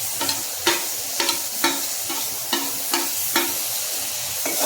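Tomatoes go into a hot spiced mixture in a pan and are stirred, a steady sizzle punctuated by regular scraping strokes of the spoon, close and alone.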